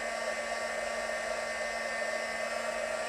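Heat gun blowing hot air for heat embossing on a craft card, a constant loud whirring fan hiss with a steady tone that holds unchanged throughout, close by with no talking.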